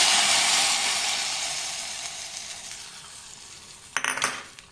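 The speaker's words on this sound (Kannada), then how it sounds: "ಒಗ್ಗರಣೆ ಹಾಕೋಣ." Steady crackling sizzle of mustard seeds tempering in hot oil, loud at first and gradually fading, with a couple of metal clinks near the end.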